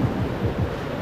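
Water at Pawai waterfall in Balrampur, Chhattisgarh rushes between two hills, giving a steady, close, full-bodied roar with no voices over it.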